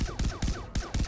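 Rapid bursts of gunfire in Far Cry 3 Blood Dragon, five or six punchy shots spaced in a steady, fast rhythm, loud and close with no talk over them.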